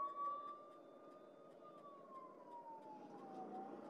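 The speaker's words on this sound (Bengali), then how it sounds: "অ্যাম্বুলেন্স আছে, ছেড়ে দিতেই হবে।" An ambulance siren wails on a road near Kharagpur, a long gliding tone that slowly falls in pitch, faint and somewhat distant over low road noise.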